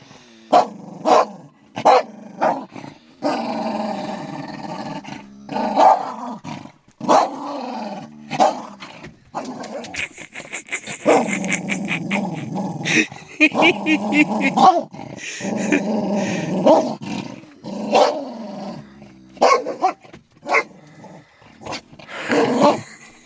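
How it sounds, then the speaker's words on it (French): A dog barks and growls in short bursts with a ball in its mouth, close by, and people talk between the barks. "Il aboie avec la balle."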